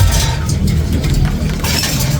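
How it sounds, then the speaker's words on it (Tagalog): Rain pouring down in Taiwan as a loud, steady, close hiss of falling water, continuous throughout with no voices. "umuulan na naman"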